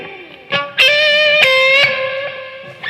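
Loud electric guitar, a Squier Telecaster through a distortion pedal, with a gritty distorted tone: a few struck notes and chords ringing out with sustained harmonics, no voices.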